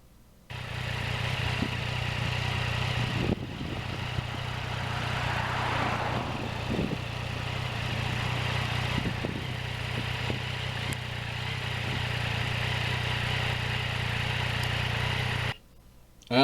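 A 2020 Yamaha MT-09 motorcycle on a first ride with Michelin tyres, its engine a steady, loud hum under wind rush, with brief shifts and a sharp cutoff near the end.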